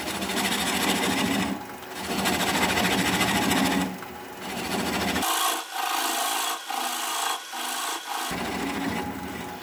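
Black walnut bowl on a wood lathe being cut with a 3/8 inch bowl gouge at slow speed, giving loud scraping, rasping bursts separated by brief pauses, close up.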